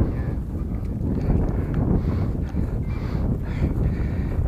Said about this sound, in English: That wind's picking up all the time,